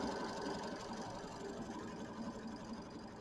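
Embroidery machine stitching a quilt block in a 4x4 hoop, a quiet steady mechanical whir with rapid faint ticking, heard alone.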